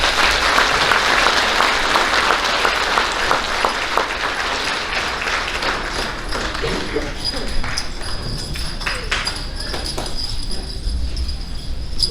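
An audience applauds students at an elementary school awards ceremony, loud, dense clapping that thins into scattered claps with light crowd noise.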